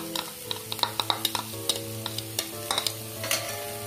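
Lentils roasting with browned onions in a pan, a quick series of close spoon scrapes and taps against the metal over a low continuous sizzle, with a faint tonal hum in the background.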